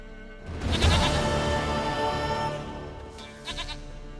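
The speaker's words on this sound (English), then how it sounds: "Goat of mine, dearest, sweetest goat." A goat in The Witcher 3 video game lets out a loud, drawn-out bleat close by, followed by a shorter, quieter bleat.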